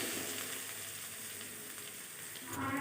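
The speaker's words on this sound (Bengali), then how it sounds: "পেঁয়াজের সাথে রসুনটা একটু ভেজে" Crushed garlic and onion frying in a pan for a Bengali bhola fish curry, a steady close sizzle with soft crackle running throughout and a brief stir near the end.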